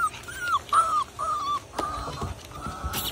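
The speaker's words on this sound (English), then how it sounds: "But these guys are really beautiful dogs." Blue Belgian Malinois puppies whimper and whine close by in a series of short, high-pitched cries, with a few scuffling knocks and a brief louder burst near the end.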